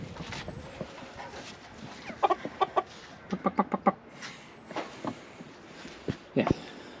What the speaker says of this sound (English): And the chickens are going mad.